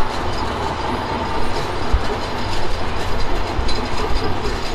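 Express train crawling slowly across a risky bridge in Bangladesh, a loud, close rumble of wheels and carriages with rhythmic clatter and occasional squeal, steady throughout with no voices.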